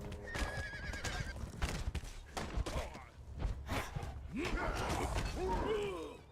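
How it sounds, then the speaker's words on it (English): A horse neighs and whinnies several times under attack in Conan Exiles amid clopping hooves, creaks and scuffling, with the shrill calls loudest toward the end. "He's attacking the horse."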